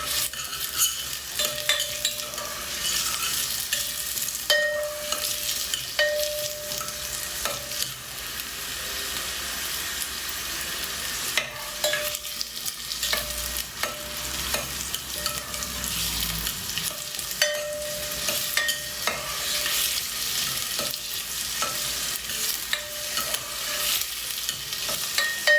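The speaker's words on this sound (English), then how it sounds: "You need to cook onion and garlic in 2 minutes." Onion and garlic sizzling in a pan, a continuous hiss of frying with occasional clinks and scrapes of stirring, close and steady.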